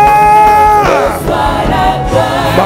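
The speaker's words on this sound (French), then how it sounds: "tu peux faire monter des acclamations" A worship congregation lifts loud shouts of acclamation during a prophetic adoration service, with voices swelling together in a close, dense burst of yelling and cheering over sustained sung tones.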